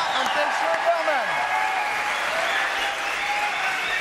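A TV studio audience claps in a sustained wave of applause under a presenter's voice, which announces guests at the start.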